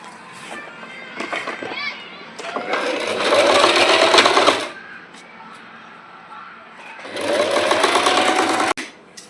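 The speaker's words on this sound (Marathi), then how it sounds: "डबल टिप घालून घ्यायची आहे आपल्याला इथे." Sewing machine stitching a double seam along three sides of cloth for a Gudi Padwa sari, running in two long loud bursts separated by a pause, with someone talking briefly in between.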